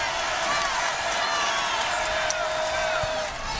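A home crowd at an ACC women's college basketball game, Virginia Tech against North Carolina, roars steadily. The cheering is dense and sustained for the whole stretch, with whoops over a broad wash of voices.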